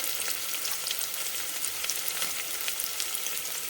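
Cumin seeds, onion and chilli pieces fry in hot oil with a steady, close crackling sizzle, dense bright spitting continuing evenly throughout with no voices.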